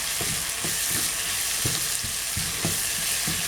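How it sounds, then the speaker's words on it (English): Bolognaise sauce fries in a pan with a loud, continuous close-up sizzle, and soft irregular bubbling thumps pop through it. "Just let that fry away for a short while."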